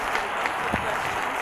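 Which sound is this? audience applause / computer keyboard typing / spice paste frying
audience applause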